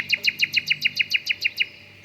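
A skylark sings a rapid series of about a dozen sharp, high, evenly spaced chirps, clear and fairly close, then the song breaks off into quiet.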